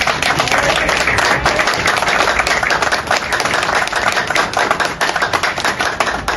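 Loud, dense audience applause and clapping for Jean-Jacques Dessalines at a Haitian commemorative gathering, sustained steadily from start to finish with no break.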